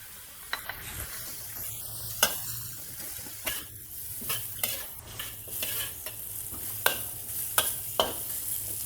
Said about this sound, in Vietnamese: mình sẽ cho bắp, cà rốt vào xào